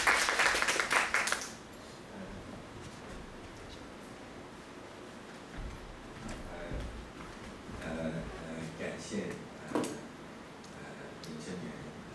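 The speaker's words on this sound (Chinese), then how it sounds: "我们再掌声欢迎他" A lecture audience welcomes a professor with applause: a burst of clapping opens the moment and fades within about a second and a half, leaving quiet room noise with scattered faint rustles and thumps.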